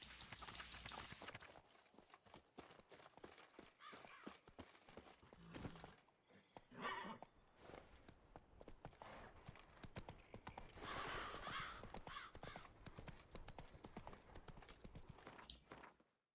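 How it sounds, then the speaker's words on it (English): Horse hooves galloping in the Witcher 3 Blood and Wine video game, a steady rapid clip-clop rhythm with a brief whinny, fairly quiet game audio. "Run, Roach"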